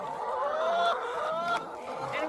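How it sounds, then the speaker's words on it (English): A flock of 125 laying hens clucks and murmurs continuously at moderate distance, with overlapping drawn-out calls forming a busy farmyard chorus. "Here is our flock of 125 chickens"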